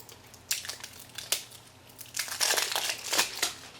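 Sealed plastic packaging around eyeshadows being torn open, crinkling and crunching in a few sharp bursts, close by and moderately quiet, with no one talking.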